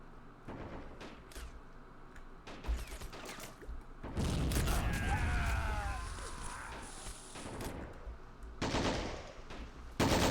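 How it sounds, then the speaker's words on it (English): Machine gun and BAR automatic fire in Men of War: Assault Squad 2 with the Army Men mod, sharp bursts and scattered shots near and far, with a dense sustained volley in the middle and another burst at the end. "Sounds like we have a MG over here. That's a bar shooting."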